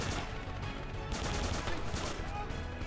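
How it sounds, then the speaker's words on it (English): Machine gun fire in a World War II first-person shooter game, a dense stretch of rapid bursts and shots at moderate level with faint talk underneath. "That was a machine gun or something."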